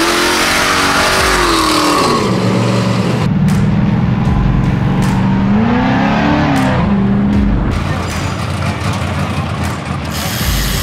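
A blown 598-cubic-inch 1965 Mustang drag car with a three-speed Lenco roars loudly and continuously, its engine note rising and falling through revs at close range with no talking.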